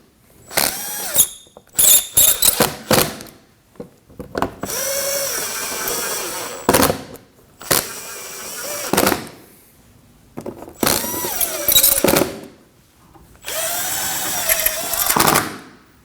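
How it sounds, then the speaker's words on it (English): A power drill with a ratcheting whir drives screws into the front bumper of a 2015-2024 Ford Edge, loud close bursts of a few seconds each separated by short pauses, with no talking. "I'll just get a couple of the screws started in to hold it up,"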